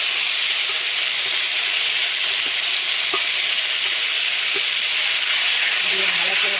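Five-spice and a ground spice paste fry in hot oil, giving a loud, dense, steady hiss and sizzle close up, with a few faint clinks of a utensil.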